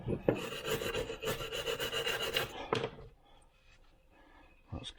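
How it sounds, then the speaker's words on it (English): A tiny wire brush scrubs the mating faces of a carburettor from a 1972 Range Rover, making rapid, close scratchy strokes for a few seconds, then near quiet with a brief final scrape. "tiny little wire brush, just clean up the mating faces."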